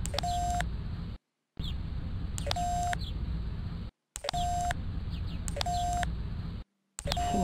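Phone dialing beeps in the Expediente X PC video game: short electronic keypad tones repeat in bursts, each followed by a steady pitched tone, broken by brief silent gaps over a continuous hiss.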